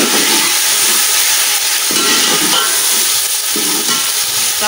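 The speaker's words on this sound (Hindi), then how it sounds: "टमाटर डाल दिए, मिक्स करें अच्छी तरह।" Chopped tomatoes sizzle and fry in a hot pot of oil while being stirred for chana aloo biryani, a steady loud hiss with occasional soft scraping bumps from the spoon, no voices.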